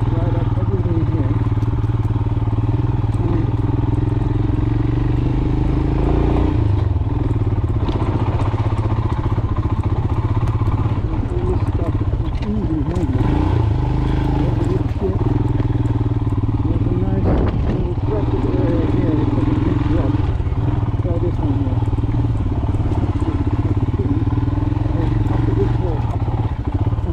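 A motocross motorcycle rides through a series of corners, its engine droning steadily with rises and dips as it works each turn, plus occasional clattering thumps and some talking over the top.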